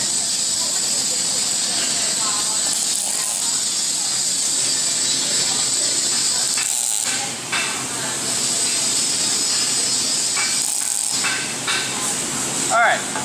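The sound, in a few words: welding machine tacking metal together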